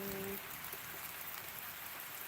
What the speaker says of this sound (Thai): แต่ทางนี้ฝนตกดี